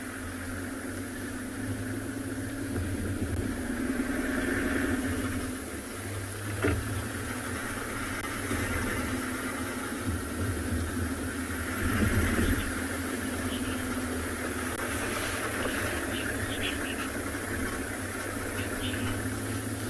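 A safari vehicle rolls through the South African bush, its engine a steady mid-low drone with bumps and surges in level, heard from on board without talk.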